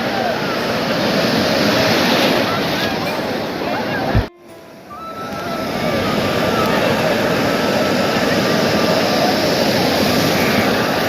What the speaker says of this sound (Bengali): বড় বড় ঢেউ দেখুন সমুদ্রে